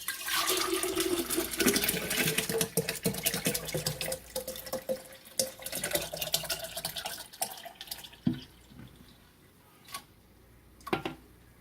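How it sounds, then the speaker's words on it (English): Lemon strawberry punch pours and gurgles steadily into a jug, up close, then tapers off into a few scattered drips and clinks. "I'm just going to pour that in there."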